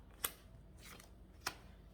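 Two crisp, brief card snaps spaced about a second apart as tarot cards are drawn from the deck, quiet and close with no talking.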